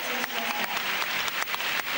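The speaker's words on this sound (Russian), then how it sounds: "Хвалит его Юка Сато своими аплодисментами за то, что катается до конца и не сдается" An arena crowd applauds continuously after a men's figure skating free program at the 2009 Grand Prix Final, a dense, steady wash of clapping with no voices above it.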